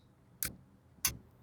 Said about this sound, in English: it's just a load of clock and watch ticking sounds.